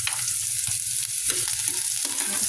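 Garlic, ginger and onion sauté in hot oil for a Filipino liver and gizzard adobo, a loud, continuous close-up sizzle with a bright hiss and faint stirring underneath.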